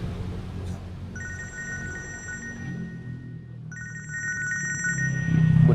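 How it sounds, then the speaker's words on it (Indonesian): A telephone rings in two bursts of bright electronic trills separated by a short pause, heard over a steady low room hum with no one talking. "Punya telepon, Pak."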